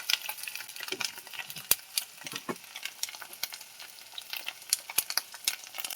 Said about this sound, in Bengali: টমেটোটা দিয়ে দেবো, দিয়ে পেঁয়াজের সাথে ভালো করে ভেজে নেব।